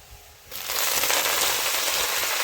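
Mixed leafy greens drop into hot oil in a pan, bursting into a loud, dense sizzle and crackle after a brief quieter moment, then holding steady.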